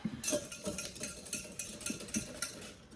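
A whisk stirring sugar and egg in a mixing bowl for peach ice cream, producing steady, rhythmic clinking and scraping strokes against the bowl, close and moderately loud, with no talking.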